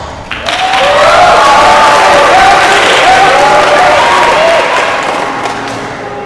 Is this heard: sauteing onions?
no